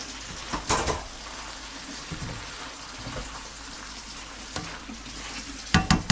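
Salt being stirred around inside a cast iron pan gives a steady gritty scraping hiss, broken by a few sharper scrapes and knocks near the start and end.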